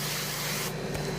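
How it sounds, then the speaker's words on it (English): Cooking spray hissing onto Kansas City and Omaha Steaks brisket burgers in a Ninja Foodi Grill air fryer, a continuous loud close spray that briefly eases near the end. "And I got to spray it."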